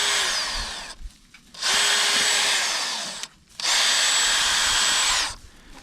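A power drill bores holes through a tire, three loud sustained whining runs separated by short pauses, close and steady.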